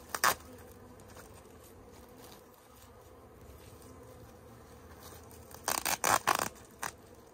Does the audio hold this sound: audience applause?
no